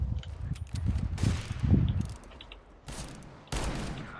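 Rapid M4 rifle bursts in a CS:GO deathmatch, several close volleys of automatic gunfire separated by short pauses, with game mechanism clicks between.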